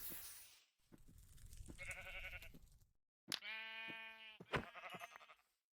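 Video-game sheep being killed: a few sharp, nasal bleats with clear harmonic stacks, loud and close, separated by short hits and gaps of silence, with no talk over them.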